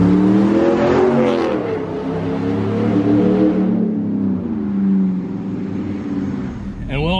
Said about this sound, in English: that's one thing with Borla, they definitely do tune their exhaust systems and make sure that they sound exactly the way that they want to